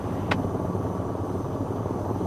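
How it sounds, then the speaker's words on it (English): Helicopter engines and rotor in a VR flight simulator game, a steady broadband turbine roar with constant low rotor rumble, loud and unchanging throughout with no voices. "you'll notice that the engines will throttle down a bit to maintain the proper rotor RPM"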